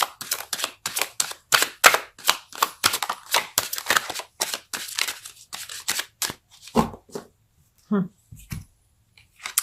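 Tarot cards being shuffled and drawn, a rapid run of crisp papery riffling clicks up close, followed by a few separate card snaps and slaps with brief pauses between.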